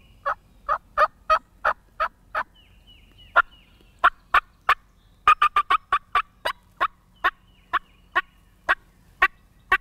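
A wild turkey gobbler gobbles repeatedly in Kentucky woods at first light, a series of sharp, rattling bursts in quick clusters, fairly close and loud against a quiet background with no talking.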